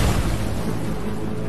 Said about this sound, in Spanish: cuando explota una granada alemana.